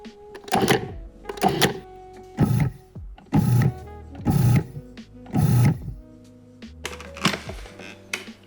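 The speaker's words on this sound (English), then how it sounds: "place the lid on the food processor and pulse these ingredients together for a few seconds" A food processor pulses biscuit ingredients, giving about seven short motor bursts of roughly half a second each, separated by brief pauses, close and loud with no talking.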